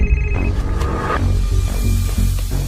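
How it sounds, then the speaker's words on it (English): A telephone rings at night with a bright, repeating electronic tone heard up close over a low background bed. "but I hear the phone ring."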